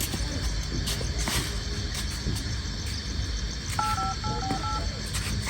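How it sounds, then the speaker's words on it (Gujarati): A phone number is dialed, giving a short run of close, clear keypad beeps near the end that sit over steady background noise. "જાડી જાડેજીને ફોન મારશું"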